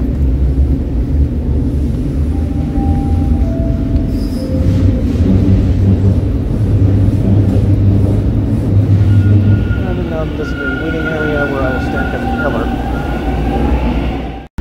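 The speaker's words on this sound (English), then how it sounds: "That's an eastbound train" A Toronto subway train rumbles past and pulls into a station, a loud, low, steady roar with a rising whine in its upper register toward the end.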